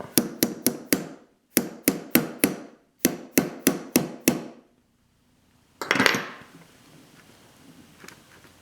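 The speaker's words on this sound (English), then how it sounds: "take a punch that's just the right size to go in there. We're going to pound that out." A hammer pounds a punch to knock a primer out, struck in close, sharp metallic blows grouped in quick runs of four or five with short pauses between. A final duller knock and a scrape follow.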